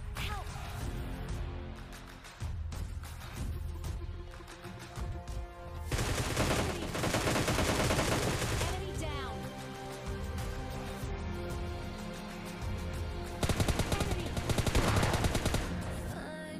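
M4 rifle fire in PUBG Mobile Lite crackles in repeated rapid bursts over continuous game sound, loud and dense throughout, with heavier volleys near the middle and the end.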